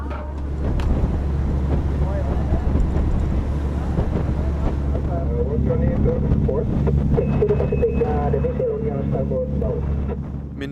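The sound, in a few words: storm wind and waves on a sailing ship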